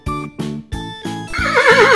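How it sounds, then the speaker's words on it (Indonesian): A horse gives a loud, close neigh, starting with several short rhythmic bursts and ending in a long, wavering whinny. No one speaks over it. "Nama binatang tersebut adalah kuda."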